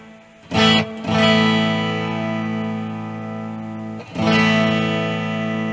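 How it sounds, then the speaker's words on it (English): Sustained electric guitar chords from a Fender Stratocaster's bridge pickup ringing out through a clean amp with reverb, two strums separated by a long decaying hold, loud and close. "Clean amp. All I have is just some reverb on it."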